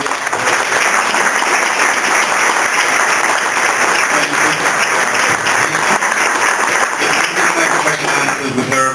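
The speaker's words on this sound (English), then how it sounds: "Big warm round of applause." Loud, sustained audience applause after a speaker at a conference session, a dense even roar of many hands clapping close by that holds steady throughout, with a faint background tone underneath.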